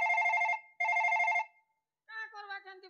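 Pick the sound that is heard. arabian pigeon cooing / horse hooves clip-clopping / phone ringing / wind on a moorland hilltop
phone ringing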